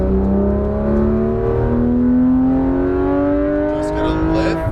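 A Porsche 911 GT3 RS of the 991 generation accelerating on a race track, its engine note climbing steadily in a loud, close whine, with a brief shift near the end.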